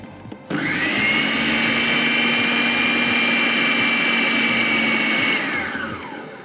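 A food processor kneads taco dough while water is poured in. The motor switches on after a brief moment and holds a loud, steady whine, then winds down near the end.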